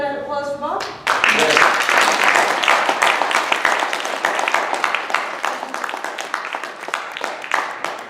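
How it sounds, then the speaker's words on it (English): Sustained audience applause for a speaker at an astronomy talk, a dense wash of many hands clapping that starts abruptly after a brief voice and holds steady to the end. "another round of applause for Bob."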